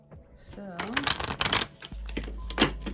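Crisp riffling of a deck of oracle cards being shuffled, a few quick bursts under a voice speaking nearby.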